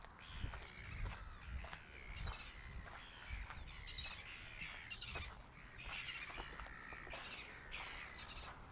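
Seagulls squawk and cry near sulfur springs, a busy overlapping chorus of harsh calls carrying on throughout over a rushing outdoor background, some calls nearer and louder, with no talking.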